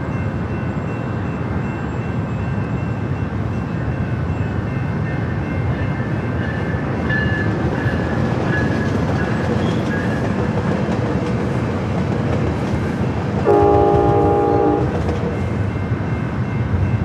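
A Coaster commuter train rumbles past near San Diego's airport, loud and steady throughout, with a short horn blast late in the pass.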